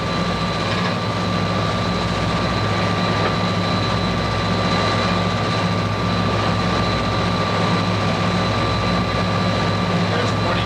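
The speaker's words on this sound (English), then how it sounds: "Train approaching is the eastbound Pennsylvanian, train number 46." The eastbound Amtrak Pennsylvanian passenger train, number 46, approaches along the line in 1986 with a loud, continuous, deep rumble and steady engine drone throughout.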